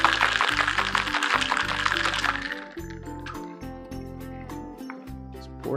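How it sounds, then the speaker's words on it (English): A margarita shaken in a cocktail shaker: a dense, fast sloshing and rattling of liquid and ice for a couple of seconds, then quieter liquid sounds over a low background hum. "Shake it up one more time."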